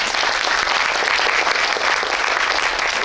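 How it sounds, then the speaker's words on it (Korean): Audience applause fills a screening talk event for the film team of Letter from Kyoto, a dense, steady roar of many hands clapping close and loud throughout, with no voices over it. "다시 한번 이 팀에게 박수 부탁드립니다."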